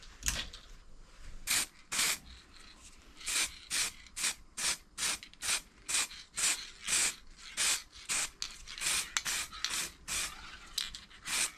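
Dirt bike part, on a Suzuki RM, being spray painted with a light silver coat: short hissing bursts from an aerosol can in an uneven rhythm, close and fairly quiet, with no talking.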